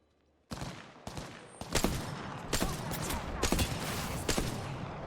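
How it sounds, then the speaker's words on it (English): Rapid bursts of gunfire from the Apex Legends video game, with several loud sharp volleys and single shots crackling one after another over a steady background din. "I'm taking shots."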